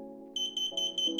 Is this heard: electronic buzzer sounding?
yes